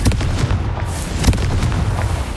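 Confringo fire spell from Hogwarts Legacy, a loud game explosion with booming crackling blasts and a sharp burst partway through, dense and close with no voices.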